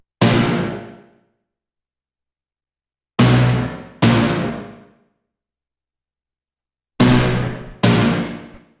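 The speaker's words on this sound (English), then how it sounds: "The first thing here is the brass, which sounds like this." Brass stabs from a minimal tech house track sound as five short, punchy hits. Two come singly and the rest come in close pairs, each decaying quickly into silence, with no voices.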